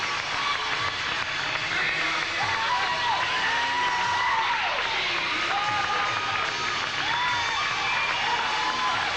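A large crowd at a Toronto bodybuilding contest roars and whoops for a favorite posing onstage, a dense, steady wall of cheering with rising shouts throughout, under an announcer's voice.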